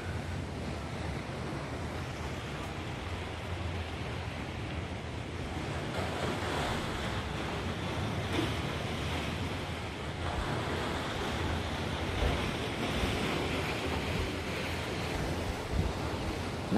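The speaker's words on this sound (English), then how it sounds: "So you just hear the crashing waves all night long if you leave your balcony door open." Ocean surf rolls onto a beach below a hotel balcony at night, a continuous broad roar of breaking waves with gentle swells in loudness and some wind buffeting the microphone, no voices.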